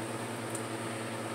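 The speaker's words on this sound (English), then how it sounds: "Sorry about the fan noise, but it is hot in here." Steady whooshing hum of an electric fan running close by, constant and unbroken with no voices.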